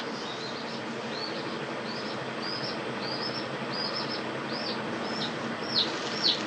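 Backyard chickens kept at home, a busy flock heard as repeated short rising squawks and chirps over a constant rustling background, with a couple of louder flaps or bumps near the end.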